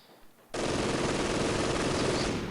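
A machine gun opens fire in the snowy battlefield of Company of Heroes 2, a sudden loud burst after a quiet moment, then an unbroken close rattle to the end.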